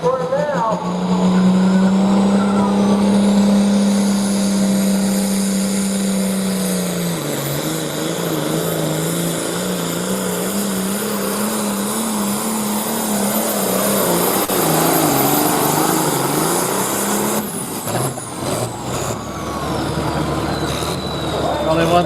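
John Deere tractor at a tractor pull, its engine a loud sustained roar with shifting pitch, rising and straining over about twenty seconds before dropping off near the end, with crowd and announcer voices mixed in.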